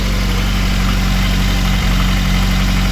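A VAZ 2109 engine idles steadily just after a head gasket replacement, a loud, even low hum with a faint regular tick running through it and no speech over it.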